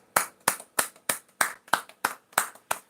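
About ten slow, evenly spaced hand claps, crisp and close, at a live vegan trivia event, with no talking over them.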